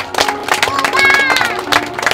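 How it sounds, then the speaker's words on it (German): An audience at an outdoor town festival crowning a blossom king applauds four contestants, with scattered clapping and crowd murmur close by that mixes with a speaking voice. "Immerhin ein Beifall für euch vier"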